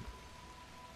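Steady hiss of rain falling across a planet in the god game The Universim, an even wash of sound with no voices.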